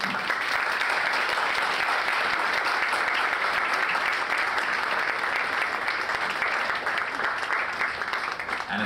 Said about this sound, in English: I just want a round of applause now because I'm finished